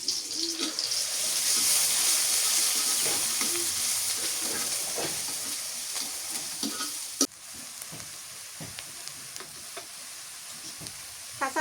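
Chopped onions hit hot mustard oil with a loud, hissing sizzle that rises, then settles into a steady crackle, broken by a sharp clink of utensils partway through; no one talks.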